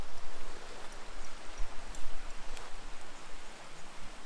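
Steady rain falls in the Chattahoochee National Forest, a dense, continuous patter of drops close by with gentle swells in loudness and no voices.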